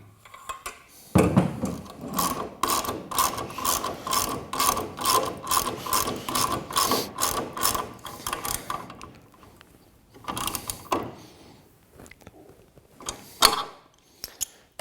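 Ratchet clicking rapidly as it tightens two bolts fastening pole assemblies to the tub of a FlipMo2 Inferno, bursts of dense metallic ratcheting with brief pauses between strokes, close and fairly loud.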